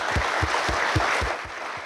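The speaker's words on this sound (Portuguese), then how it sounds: "uma salva de palmas para vocês" Audience applause at a motivational business talk, steady dense clapping throughout with a few heavier low thumps, easing slightly toward the end.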